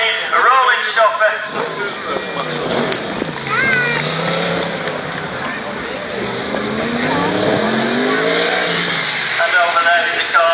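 A stunt motorbike at a live stunt show revs hard into a burnout, the engine whining and rising and falling under a commentator's constant talk over a loudspeaker.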